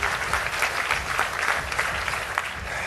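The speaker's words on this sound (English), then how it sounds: "I always prefer if I get the applause after I speak" Audience applause from a crowd at a speech, dense continuous clapping, loud and sustained for the whole stretch.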